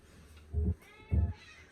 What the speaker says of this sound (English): these cats are driving me crazy